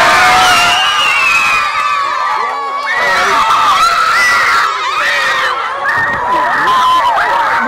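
Secondary school students scream, cheer and whoop as someone enters, a dense loud crowd of young voices shouting continuously with overlapping chatter.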